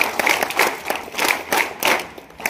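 Students at a college gathering applaud a state-level school judo gold medalist, with dense, lively clapping that swells and dips in waves for a couple of seconds and no talking.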